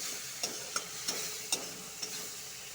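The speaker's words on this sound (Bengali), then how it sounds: "এটা ঢেলে দেবো পেঁয়াজের সাথে আবার ভাজবো" Onion and chopped tomato fry quietly in a pan, a soft steady sizzle broken by about five sharp clinks of a utensil stirring against the pan, with no voices.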